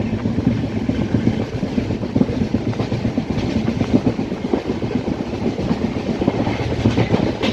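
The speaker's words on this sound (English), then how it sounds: "And the train is in full speed." A passenger train runs at full speed between Coimbatore and Bangalore, heard from inside as a continuous loud rumble with rapid rhythmic clickety-clack of wheels over rail joints.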